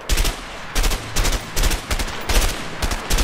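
Short bursts of automatic gunfire from the video game A Way Out, four or five rapid, loud volleys separated by brief pauses, each a tight cluster of cracking shots.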